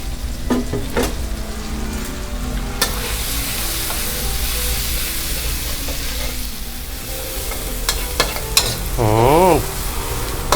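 Pounded chili and garlic stir-fried in hot oil for a minced beef basil dish, with loud continuous sizzling, scraping stirring strokes and a brief rising whine near the end.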